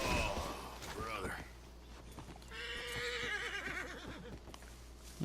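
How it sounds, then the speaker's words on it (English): Horse whinnying in the video game Red Dead Redemption 2, a loud drawn-out neigh with hoof clip-clops and someone talking over parts of it. "You okay, horsey?"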